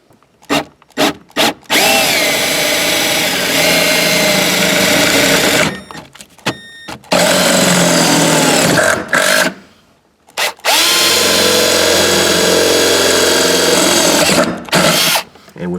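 Loud power drill with a 9/32-inch bit whirring in several long bursts, starting and stopping repeatedly as it bores through a car's metal floor, close up with no talking.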